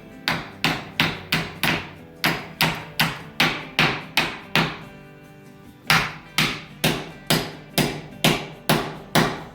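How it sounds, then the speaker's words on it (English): Hatchet pounding a wooden shim into place in a 100-year-old house basement framing job, a steady series of about twenty sharp, loud, ringing blows in quick rhythm with one short pause midway. "now I just have to use my hatchet to pound that in there"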